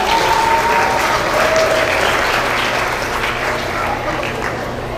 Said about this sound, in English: give this group of outstanding showmen another round of applause